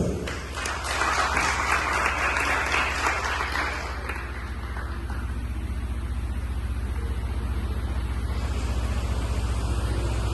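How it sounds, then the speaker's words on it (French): Audience applause at a school ceremony before prayer and a flag-raising, a steady broad wash of clapping that holds throughout, moderately loud with a low background hum underneath. "Applaudissez-le s'il vous plaît"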